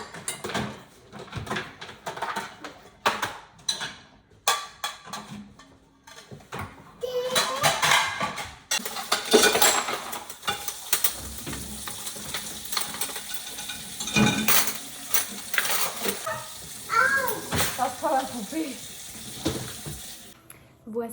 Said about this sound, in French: Lave-vaisselle time, les copains!